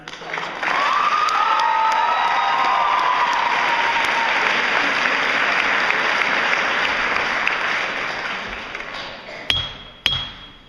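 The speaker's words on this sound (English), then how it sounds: "if you'd like to give her a round of applause" Sustained audience applause with scattered cheers fills a hall at a youth model legislature session, steady and loud for most of its length before tapering off with a few final claps.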